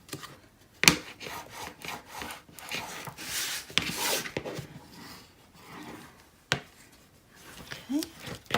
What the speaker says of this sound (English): burnish it really well